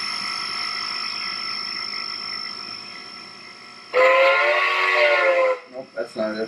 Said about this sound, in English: Yep, that's the whistle.